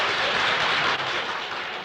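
Sustained applause from a group of fellow workers at a public badge of merit presentation for fulfilling the plan, a dense, steady wash of clapping hands heard without speech.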